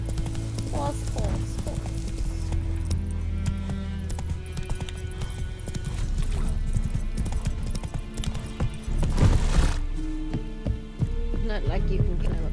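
Roach, a horse in Witcher 3, clip-clops along in a rhythmic series of hoof beats with music and game sounds, a short whinny-like burst partway through.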